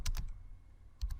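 Quick clusters of computer keyboard keystrokes at a command prompt, a few crisp close taps, a short pause, then another burst.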